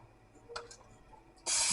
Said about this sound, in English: so I'm going to spray my pan with just a little